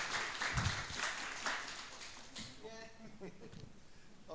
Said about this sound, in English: Big applause, please